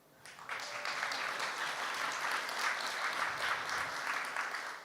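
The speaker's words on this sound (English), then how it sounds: "and yeah, applaud" Audience at a technology forum breaks into steady applause, a dense wash of clapping that starts suddenly and holds at an even level to the end.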